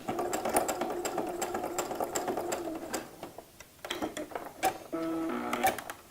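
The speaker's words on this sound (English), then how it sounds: "now I'm just going to stitch across to hold this in place" Sewing machine stitching a seam across coin purse fabric, a steady rapid whirring run that stops and starts in short bursts, then resumes with a continuous hum, close and moderately loud with no talking.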